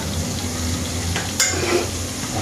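Onion, garlic and ginger sautéing together in a pan for chicken tinola give a steady close frying sizzle, with a brief clatter of stirring near the middle.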